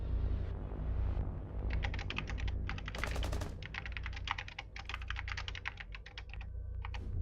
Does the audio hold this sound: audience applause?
no